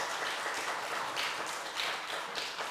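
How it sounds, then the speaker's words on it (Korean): Church congregation clapping to welcome someone during a Sunday service, a fairly quiet, steady patter of many hands with a few stronger bursts, no speech. "박수로 한번 환영하겠습니다"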